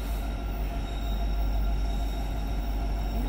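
Norfolk Southern freight train led by EMD locomotives, including an SD70ACe, rolling into Greenville station: a loud, continuous low rumble with a steady mechanical drone and wheel noise, close by, with no talk.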